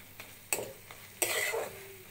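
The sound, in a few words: stirring fried greens with mustard paste in pan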